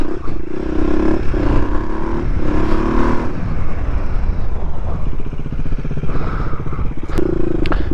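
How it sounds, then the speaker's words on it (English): Supermoto motorcycle engine running at a steady idle with the clutch pulled in during a coaster wheelie, a continuous loud low mechanical drone with some clatter and slight wavering throughout, no talk. "coaster wheelies you kind of have to pull in the clutch because you're just letting the bike idle."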